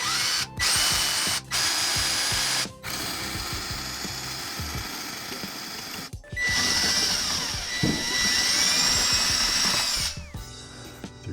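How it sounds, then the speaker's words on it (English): A power drill with a 3/4 inch paddle bit boring through a wooden kitchen cabinet: loud, close whirring bursts separated by short pauses, with grinding and rising motor whine as the bit cuts the wood. "Tools of choice, paddle bit at 3/4 of an inch."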